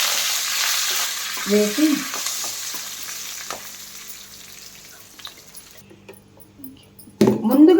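Curry leaves frying in a pan: an initially strong hiss of hot oil that gradually fades, with metallic stirring clinks and scrapes, then a sudden loud burst of sizzle near the end; a voice briefly speaks.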